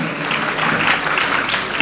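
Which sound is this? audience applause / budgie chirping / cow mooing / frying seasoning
audience applause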